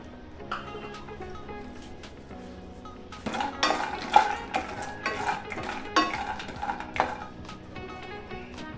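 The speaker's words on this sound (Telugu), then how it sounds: "నెయ్యి కాగిన తర్వాత ఇందులోకి జీడిపప్పును వేసుకొని లో ఫ్లేమ్ మీద వేయించుకోవాలి." Cashew nuts fry in ghee in a pan over a low flame. A soft sizzle sits under close clinks and scrapes of a spoon stirring against the pan, busier in the second half, with no talk.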